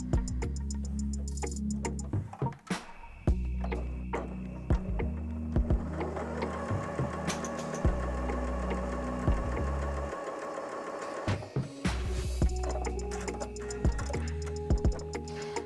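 A domestic dressmaking sewing machine runs a straight stitch through slippery polyester in rapid, even mechanical ticking with a humming motor whine. It pauses briefly before starting again, close and clear.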